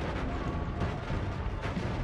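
Explosions in the roguelike video game Noita, a dense sustained roar of blasts with sharper bursts near the middle and toward the end, loud and continuous with no talk.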